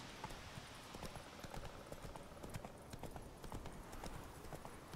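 Horse hooves gallop in the video game The Witcher 3, a fast, steady clip-clop rhythm heard faintly and continuously with no talk over it.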